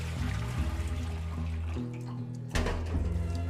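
Running water rushes over food being rinsed and strained in a sink, a continuous close splashing stream with a sharper surge near the end.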